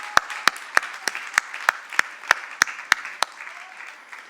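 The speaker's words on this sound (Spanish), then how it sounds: "Dale un aplauso" Clapping in unison during a church worship service, about a dozen sharp, evenly spaced claps in a steady rhythm that fade slightly toward the end.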